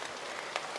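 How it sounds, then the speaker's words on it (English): Heavy rain falls late on a November night in Penang, a dense, steady hiss of drops with faint patters. It is fairly quiet and unbroken, with no voices. "raining quite heavily now"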